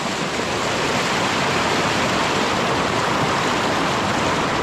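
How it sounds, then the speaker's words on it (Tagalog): Strong river current rushing steadily at a crossing point, a loud, close, unbroken roar of turbulent water with no voices. "Ako malakas ang agos"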